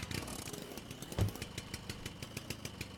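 Car engine in Jalopy chugging with a rough, rhythmic mid-range drone while being driven in, with a brief louder thump partway through; no speech.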